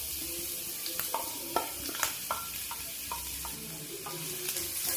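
Onions frying in oil in a pan, a steady close sizzle with repeated stirring clicks and scrapes at an even pace.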